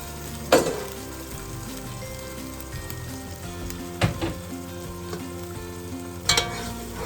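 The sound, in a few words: stirring and frying yam porridge base in a pot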